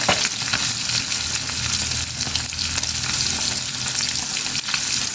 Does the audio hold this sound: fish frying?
yes